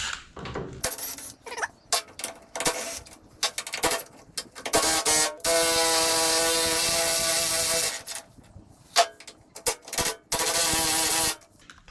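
Main chassis bolts being undone on a 1958 Volkswagen Beetle, with bursts of tool whirring, ratcheting and metallic clicks separated by short pauses, close and fairly loud with no talking.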